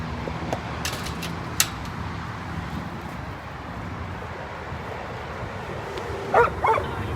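A dog yips and gives a short whimper near the end of a walk outdoors in an open field, heard faintly over steady outdoor background noise and light rustling.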